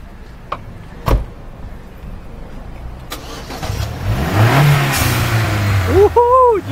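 A few sharp knocks, then a Vauxhall VXR car engine starts and revs up loudly nearby in London, ending with a rising whine.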